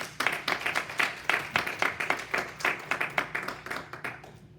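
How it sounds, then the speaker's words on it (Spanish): A church congregation claps in a loose, fairly regular rhythm, distinct sharp hand claps repeating roughly every third of a second, moderately close, and then fading away toward the end. "¿Cuánto le dan un aplauso al Señor?"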